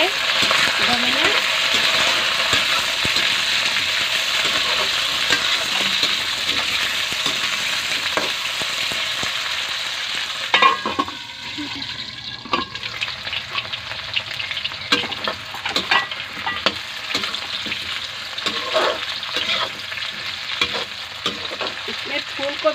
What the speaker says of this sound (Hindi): पहले आलू को भूजेंगे दो मिनट